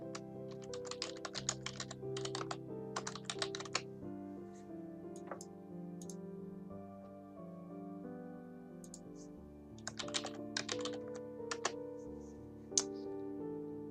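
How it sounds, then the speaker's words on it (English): Keys clatter on a computer keyboard in quick bursts of typing, close and clear, with pauses between runs and a low background hum underneath. "Get my keyboard out here."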